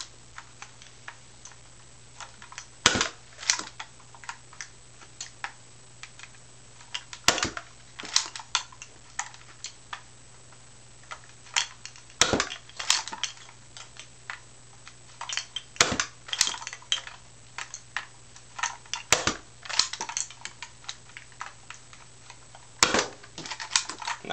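Nerf Jolt toy blaster pistols fire darts one after another, a series of small, sharp clicks and snaps spaced irregularly over quiet background hum.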